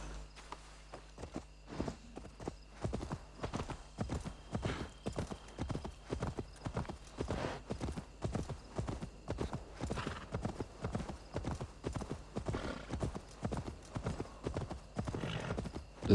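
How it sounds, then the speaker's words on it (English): Steady horse hooves clip-clop at a walking pace for a long stretch in the video game Assassin's Creed Valhalla, close and even, with a faint background hum. "let's get our horse and get out of here"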